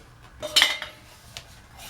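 Two wrenches clink and scrape against a 1/2 inch brass pipe nipple as it is unscrewed from a tub spout fitting in the wall, a few close, light metallic clinks in a quiet room.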